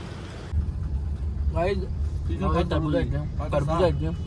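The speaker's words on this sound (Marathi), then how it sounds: "जाम ट्रॅफिक आहे जाम ट्रॅफिक नुसती कचाकच ट्रॅफिक भरले" Heavy road traffic in a packed jam, a steady low engine rumble throughout with a sharp rise in level about half a second in, while people talk over it.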